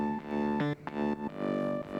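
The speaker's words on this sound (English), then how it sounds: "Actually this time we high pass filter the bass first" A high-pass filtered bass synth from a weekly electronic track project plays a few thin, sustained notes with brief pitch changes, close and moderately loud, with no voices.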